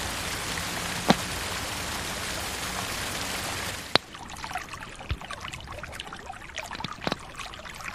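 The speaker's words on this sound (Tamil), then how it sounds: "சாலையோரம் ஓடும் பாதாள அருவி." Rainwater rushing along a roadside during heavy, continuous rain: a steady, fairly faint wash of pouring water and patter, with a few sharp drips and splashes standing out.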